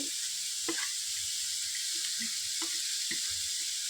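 Chopped cabbage sizzles steadily in a pan over a low flame, a constant soft hiss with faint scattered crackles and stirring bumps, no talking.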